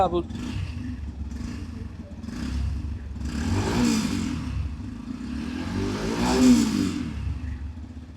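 A Yamaha FZ hybrid motorcycle starts and settles into a steady running note with a couple of swells, close and fairly loud. Someone talks over the engine throughout.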